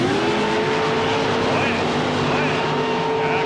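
A rear-engine mud racing vehicle roars loudly and continuously down a heavy mud track at a 1992 NMRO event in Davenport, Iowa, the engine note holding steady and strained throughout.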